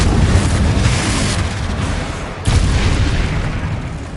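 A Confringo blasting curse from a video game erupts in a heavy, booming explosion, followed by a second deep blast about halfway through, loud and rumbling with no voices.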